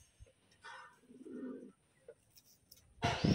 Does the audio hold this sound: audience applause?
no